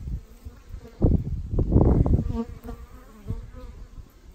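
Bees buzz softly around small purple flowers on a windy day at a lake, a low drone rising and falling as they move close, with a brief word spoken partway through.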